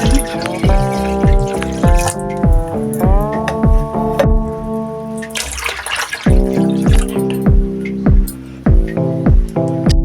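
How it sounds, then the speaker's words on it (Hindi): Water is poured into a cooking pot for plum syrup, a steady loud gushing stream with ringing resonant tones and splashy pulses throughout. "यहाँ पे मैंने 4 लीटर पानी शामिल कर दिया है"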